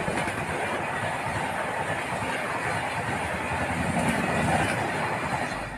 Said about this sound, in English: Coromandel Express leaving the Balasore railway station.